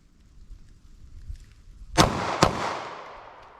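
Two sharp, loud gunshots from a short-barrel .40 S&W handgun fired from low ready, about half a second apart, each a hard crack trailing into a decaying echo after quiet handling noise.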